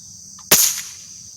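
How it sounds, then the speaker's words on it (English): A single sharp crack of an air gun fired at an apple, close and loud, with a brief ringing tail fading over the next half second against quiet outdoor background. "So now I'll be shooting the apple."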